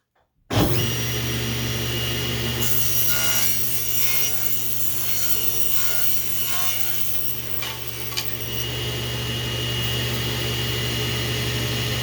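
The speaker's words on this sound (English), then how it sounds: "be very, very careful in running your table saw" A table saw cuts wood for the leading and trailing edges of a scratch-built RC plane wing, a loud close continuous whine with a grinding rasp through the cut and no talk.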